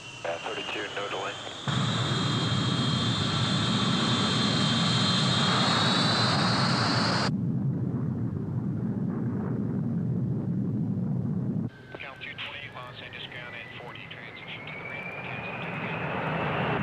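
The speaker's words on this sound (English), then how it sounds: "Trans-Allied 136, you're cleared for takeoff." An airliner's engines roar during takeoff, a loud rising whine and rumble that swells, cuts off, and returns, with voices speaking over it.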